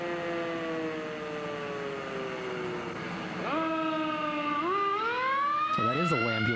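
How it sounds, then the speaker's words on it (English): A wailing siren rises and falls continuously, its tone climbing and shifting as the vehicle passes, loud over steady road noise. "So that is a ambulance."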